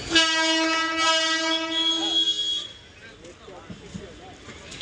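At Madhyamgram railway station, a loud, rich train horn blares for a couple of seconds, then fades into the rumble of the train and station bustle, with voices in the background.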